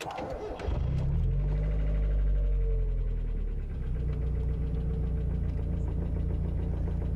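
A Mazda Miata autocross race car engine cranks briefly, then catches and settles into a loud, steady, slightly rough idle nearby, no talking over it.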